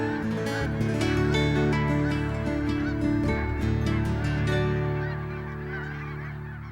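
A dense flock of geese honking in Alberta, loud overlapping calls close by that gradually fade toward the end, with no talk.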